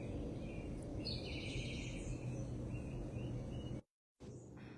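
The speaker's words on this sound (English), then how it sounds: "The birds are so loud." Morning birdsong outdoors, faint high chirps and short tweets scattered over a steady low rumble of background noise, broken by a brief dropout near the end.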